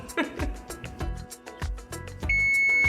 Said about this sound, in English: the timer went off, 30 minutes was up